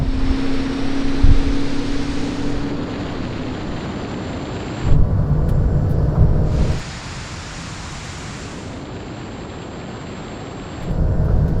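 Porsche 911 Turbo S 992 and 991 cars drag race down a runway, a loud, broad engine and wind roar that surges and drops back in stages as the cars accelerate, with no talk.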